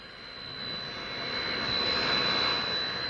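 Steady, loud roar of a jet aircraft engine at an airport, building slightly over a few seconds with a thin high whine running throughout and no voices.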